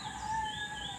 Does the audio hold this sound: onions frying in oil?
no